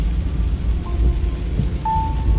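Steady rain hisses with a low thunder rumble during a car road trip from Medan to Pekanbaru in a Daihatsu Ayla 1.2. The wash of noise is constant and close, with a faint tone near the end.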